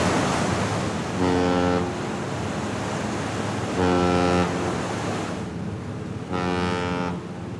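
A Hurtigruten coastal ship's horn sounds three long loud blasts at sea, evenly spaced over a constant roar of wind and waves.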